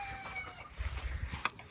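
Gold laced and buff bantam chickens, with large fowl buffs nearby, cluck softly and fairly close, a few low irregular clucks over faint background hiss, with one brief higher squawk near the end.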